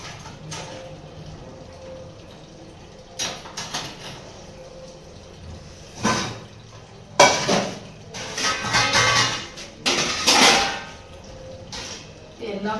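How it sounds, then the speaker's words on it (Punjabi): Washed dishes are put away at home, with metal clanks and clattering in irregular bursts that grow busier toward the end over a quiet room background. "ਭਾਂਡੇ ਲਾਣੇ ਆਏ ਪਏ ਸੀ ਆਪਾਂ ਭਾਂਡੇ ਲਾ ਦਈਏ"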